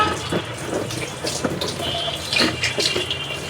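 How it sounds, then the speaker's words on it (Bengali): Hand-washing water splashed and poured into a bowl of marinated beef, a close, continuous trickling and splashing with a few louder spatters, no talking. "সামান্য পরিমাণে একটু পানি দিয়ে দিলাম, হাত ধোয়া পানিটা"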